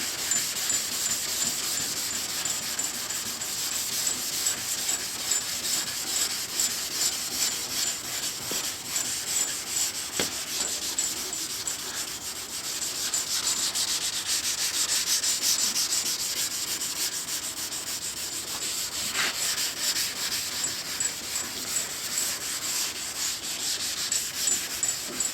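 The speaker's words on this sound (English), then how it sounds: "because you'll create a crater if you just keep on sanding like that" Steady, continuous hand sanding rasps across a Chevelle's car body during final sanding in a garage, a dense rubbing hiss that keeps going for the full stretch with slight surges and no talking.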